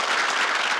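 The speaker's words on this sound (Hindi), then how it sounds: "अब रेखा चौधरी के लिए देखो बढ़िया सी ताली बजवाओ भाई" An audience claps for Rekha Chaudhary at a gathering, a brief burst of dense, steady applause at moderate loudness.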